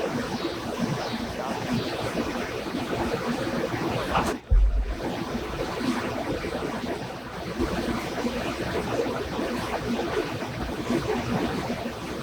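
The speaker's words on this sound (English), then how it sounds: "A boat out on the water." Ocean waves wash and surge around a boat out on open water, with a constant windy roar and a brief thump partway through, loud and close with no talking.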